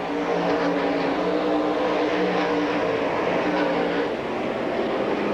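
Race cars roar past at Silver Spring Speedway, a dense, steady engine drone filling the whole stretch, loud and close with slight rises and falls in pitch.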